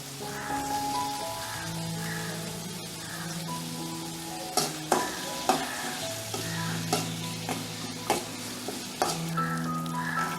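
Small tomato pieces and spices are stirred in a sizzling frying pan, with a steady fry under a series of sharp scraping clacks from the spoon against the pan.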